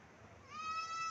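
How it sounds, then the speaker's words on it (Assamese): Goats bleat outdoors near someone eating a rice meal, a single drawn-out nasal bleat rising in the second half over quiet background, fairly close and moderately loud. "এয়া চাওকচোন ছাগলীবিলাক"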